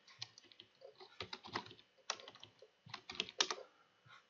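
Python code being typed on a computer keyboard: quick irregular bursts of clicky keystrokes with short pauses between them, close and fairly quiet, no talking.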